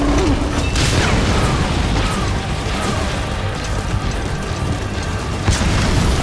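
Explosions in the video game Metal Gear Solid V, a dense, loud wall of blasts and crashing debris filling the whole stretch, with a sharper boom near the end and no talk.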